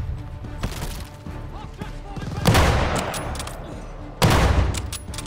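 Call of Duty Vanguard gunfire: sustained automatic shooting with sharp individual shots and two heavy louder bursts, close and dense, with a voice under the din.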